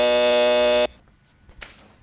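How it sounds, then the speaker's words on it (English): A quiz show buzzer on a high school academic contest sounds once, loud and harsh, holding for nearly a second before cutting off into quiet room noise. "there's the buzzer"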